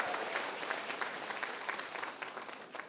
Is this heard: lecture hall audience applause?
yes